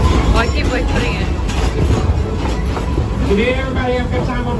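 A Dollywood park train rumbles steadily along its tracks, close and continuous, with faint rhythmic clatter and light squeals throughout while people talk over it.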